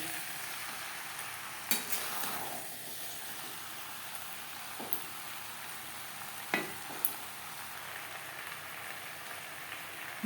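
Pointed gourd and potato being stirred with spices in a pan, a steady soft sizzle and hiss with a few sharp utensil scrapes and knocks against the pan.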